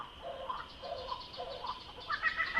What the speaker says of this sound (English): That stupid kookaburra's singing over top of him.